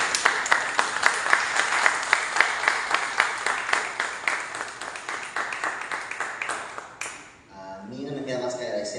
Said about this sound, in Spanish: con un caluroso aplauso.